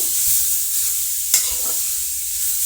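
Grated carrot stirred with a spatula in a pan while making carrot kheer, a steady frying hiss under a single sharp scrape of the utensil midway, close and alone.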